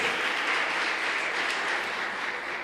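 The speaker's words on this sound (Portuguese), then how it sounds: "Você pode aplaudir aí?" A church audience applauding together, a dense, steady wash of clapping that holds at an even loudness throughout with no voices over it.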